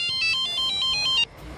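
A phone ringtone chirps in a quick repeating electronic melody for about a second, loud and clear, then cuts off abruptly, leaving faint room noise.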